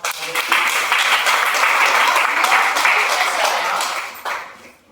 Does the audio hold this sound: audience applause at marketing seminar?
yes